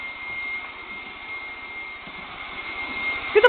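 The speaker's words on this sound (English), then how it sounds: "Get the blow dryer." A blow dryer runs steadily nearby with a constant whirring hum, aimed near a Lakeland Terrier, and a couple of brief sharp sounds come at the very end.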